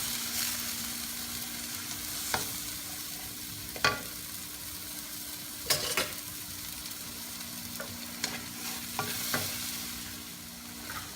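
Milkfish kaldereta sizzling steadily in a pan after fish sauce goes in, with a continuous frying hiss broken by occasional sharper crackles and stirring clinks, close and alone with no talk.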